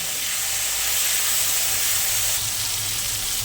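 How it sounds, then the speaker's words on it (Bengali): Spice paste of cumin powder and dried chilli powder frying in a pan with a splash of water for a brinjal and hilsa curry, giving a steady, even sizzle and hiss that runs unbroken throughout. "যাতে পুড়ে না যায় তার জন্য একটু জল দিয়ে দিলাম। মশলাটা ভালো করে কষিয়ে নেব।"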